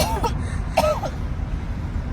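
A woman coughing from tension, a couple of short throat-clearing coughs over a steady low rumble of traffic, fairly close.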